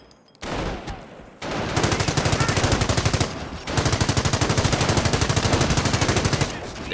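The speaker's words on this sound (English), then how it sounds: "The MG emplacement is suppressing the enemy troops." A machine gun emplacement fires in the video game Company of Heroes, loud and close, with long sustained bursts of rapid, even shots and a brief pause between two strings of fire.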